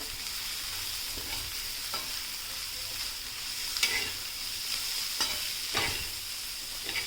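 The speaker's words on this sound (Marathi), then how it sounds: "आलं लसूण आणि मिरची ठेचून घेतली ना की ते आपल्याला लगेचच गवारीमध्ये मिक्स करून घ्यायची आहे आणि एक ते दोन मिनटं असंच परतून घ्यायचं आहे" Cluster beans stir-fried on a tawa with crushed ginger, garlic and green chili keep up a steady close sizzle, broken by occasional scraping stirs of a spatula against the pan.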